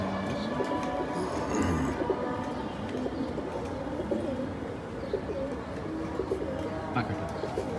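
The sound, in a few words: khaki pigeon cooing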